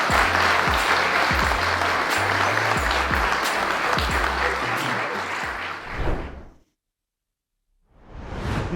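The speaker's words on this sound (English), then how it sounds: "You guys need a round of applause." Studio audience applause at a soccer talk show fills the first six seconds with steady, dense clapping, then cuts to silence before another burst of clapping swells back in.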